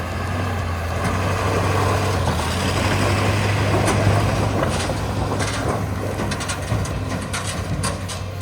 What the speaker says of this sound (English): The dump truck made it across once.